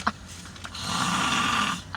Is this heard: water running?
no